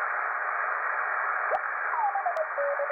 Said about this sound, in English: there's the beacon for the XW2O satellite coming in nice and loud